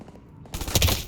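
Video game gunfire erupts as a loud, close burst of overlapping shots after a brief quieter moment, filling the rest of the short moment with dense crackling blasts.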